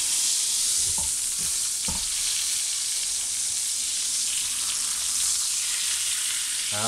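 A prime rib steak sizzles steadily in a pan, a loud continuous hiss with a few soft knocks and scrapes early on, no voices.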